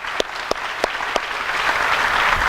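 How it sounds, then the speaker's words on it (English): An audience at a 2018 Muhlenberg County general election political forum applauds the candidates. A few separate, loud claps open it, then they swell into dense, continuous applause. "let's give a big round of applause to all the candidates."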